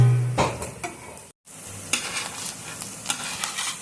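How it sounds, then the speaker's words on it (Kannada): Paneer pieces roasting in oil on a tawa and being flipped, heard as a close sizzle with scraping and clinking from the spatula, and a brief silent gap partway through. "ಇವಾಗ ತಿರ್ಸಿ ಹಾಕಿ ಇನ್ನೊಂದು ಸೈಡು ಚೆನ್ನಾಗಿ ಬೇಯಿಸ್ಕೊಳ್ಳೋಣ."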